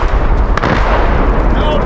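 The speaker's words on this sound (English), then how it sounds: "Thousands of civilians, mostly women and children, are fleeing the fighting under artillery fire." Artillery fire in war news footage, a loud, dense roar of booming blasts with a sharp crack near the middle, heavy and continuous throughout.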